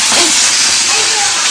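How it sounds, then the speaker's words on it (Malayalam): Mustard seeds splutter and hiss in hot oil in a pan, a loud, close, continuous sizzle with a steady crackling texture throughout. "അപ്പോൾ കടുക് പൊട്ടുന്നുണ്ട്"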